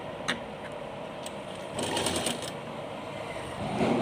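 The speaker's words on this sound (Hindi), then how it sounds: "अब हम इसको इस तरह से एक साइड से सिलाई लगाना शुरू करेंगे" A sewing machine stitches the side seam of a small Laddu Gopal summer dress, a soft, even mechanical whir that picks up slightly partway through, fairly quiet with no talk.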